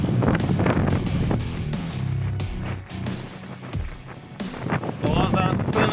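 Squally wind gusts over a mountain pass on a cycling trip, roaring and thumping hard against the microphone with a constant heavy rumble, while people talk faintly beneath the noise.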